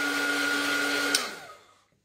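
A heat tool blows hot air over paint on an art journal page, a loud steady whirring hiss that runs without a break and then winds down and fades to silence near the end.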